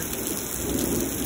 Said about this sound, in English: I will be awake until all this heavy rain goes away.